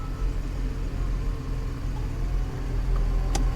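A car engine runs steadily with a low idling rumble while the car is put in reverse and moves backward, heard close up and continuous with no talk.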